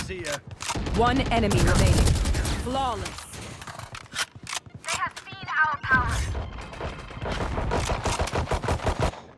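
Phantom rifle fire in Valorant comes as rapid sprays and short bursts of sharp shots, near and loud, with someone talking excitedly over and between the volleys.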